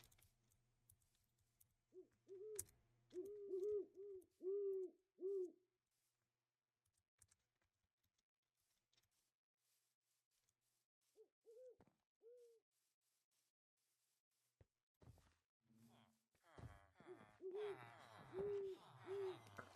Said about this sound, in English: Ooh, the owl looks so cool.